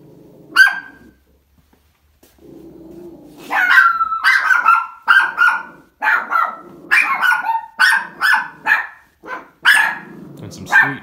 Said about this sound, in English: And some sweet dogs.